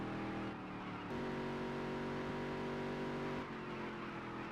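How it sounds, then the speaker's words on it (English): Race car engine in the Dirt to Daytona racing game, held at the rev limiter as a steady high-pitched buzzing whine that jumps up in pitch partway through and keeps droning. "it looks like we were about at the rev limiter"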